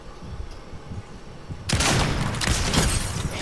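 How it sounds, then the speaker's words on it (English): A sniper rifle firing in Fortnite, a sudden loud shot and burst of gunfire breaking in after a quiet moment and continuing as dense, close firing. "One of them I've headshot sniped"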